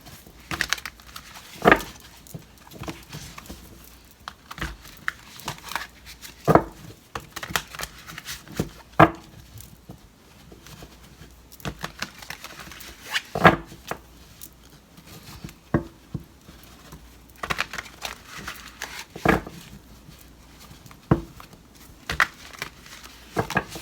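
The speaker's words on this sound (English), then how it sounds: "I'm going to go ahead now and shuffle these cards." Tarot cards being shuffled by hand, irregular bursts of soft riffling and tapping at close range, with quiet pauses between them and no talk.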